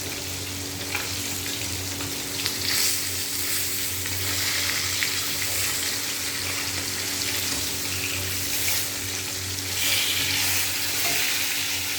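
Fish frying in hot oil in a pan gives a steady, dense sizzle up close, with faint bubbling and occasional light crackles running throughout.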